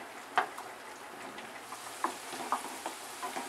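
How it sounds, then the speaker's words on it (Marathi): Okra (bhindi) fries in oil in a pan for a Maharashtrian dahi bhindi, a soft steady sizzle broken by a few light stirring clicks and taps, close and without talk. "भेंडी टाकायची। आणि चांगली भाजून घ्यायची।"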